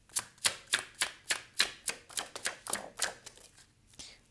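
A deck of tarot cards is shuffled by hand, producing a quick run of about fourteen soft, evenly spaced flicking riffles, close by and fairly faint, with no voices.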